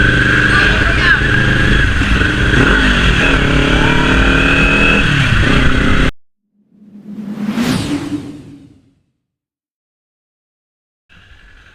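A 2024 Kawasaki Ninja 400 motorcycle revving with its exhaust roaring loud and close for several seconds, then a single rising and falling rev after a pause, with a brief burst at the end.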